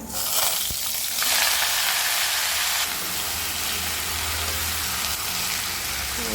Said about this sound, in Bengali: লাউগুলো কড়াইতে দিয়ে ভালো করে নাড়াচাড়া করছি